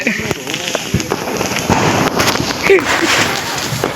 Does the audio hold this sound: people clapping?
no